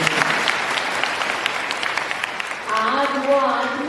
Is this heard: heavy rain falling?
no